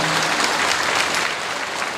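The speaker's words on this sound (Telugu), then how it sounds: "గట్టిగా గట్టిగా చప్పట్లు కొట్టండి ఒకసారి మీరందరూ" Children at a Vasantha Panchami school event clap loudly in a dense, sustained burst of applause filling the room, steady throughout the short stretch.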